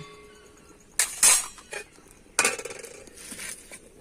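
A lid clatters onto a metal pot of nearly boiled dal over a wood fire, two sharp clanks followed by a lighter rattle, close and alone.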